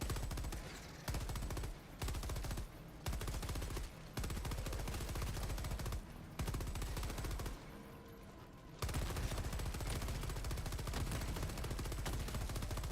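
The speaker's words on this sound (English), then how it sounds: "the Stalwart is like one of the most perfect guns for this job too" Stalwart machine gun in Helldivers 2 blazing in long continuous automatic bursts, loud and close, with brief pauses between strings of rapid fire over a dense battle background.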